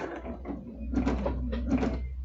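A walking-foot sewing machine stitching through a quilt, heard as two or three short, quiet mechanical whirring runs with brief pauses between them.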